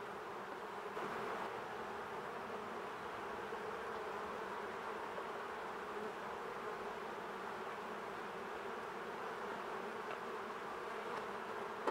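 Honey bees are shaken into an empty beehive, making a dense, steady swarm buzz that holds evenly throughout, moderately quiet, with no voices.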